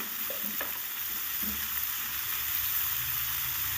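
Mixed vegetables fry together in a pan for a Bengali vegetarian mix veg dish as salt is added. A steady close sizzle runs throughout, with a few scraping stirs early on and no talking.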